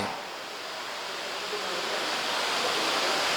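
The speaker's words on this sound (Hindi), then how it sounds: "पानी गिर रहा, पूरा करना है।" Water falls steadily as rain during a religious discourse, a continuous even rush of broadband hiss that swells slightly toward the end, with no voices over it.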